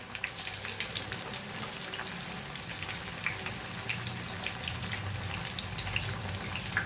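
Raw banana kebab pieces fry in hot oil with a steady, crackling sizzle that stays even and close throughout, with no voices.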